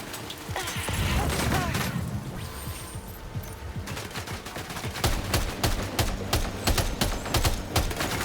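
Sustained gunfire in the video game Death Stranding 2, with dense rapid bursts and repeated sharp shots running throughout, growing louder and punchier in the second half.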